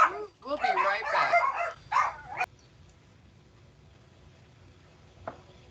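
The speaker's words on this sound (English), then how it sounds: "The doorbell was ringing and the dogs were barking." Household dogs bark and yip excitedly when a doorbell rings, in a loud, close burst of overlapping barks that cuts off abruptly, followed by near quiet and a faint click.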